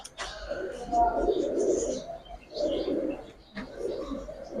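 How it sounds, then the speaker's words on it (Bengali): A female Giribaz coloring pigeon coos close by in three low, rolling bursts separated by short pauses, with people talking around it. "এই যে মাদি কবুতরটা"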